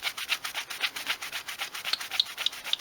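Rhythmic back-and-forth rubbing of a cloth hand polishing a Nissan number plate light part, steady fast strokes up close with no talking.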